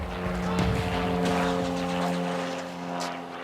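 A police helicopter flies overhead during a drug raid on a Lyon housing estate, its steady rotor and engine drone loud and continuous, swelling slightly, with no speech.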